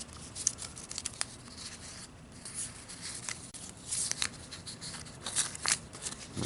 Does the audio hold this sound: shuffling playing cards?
yes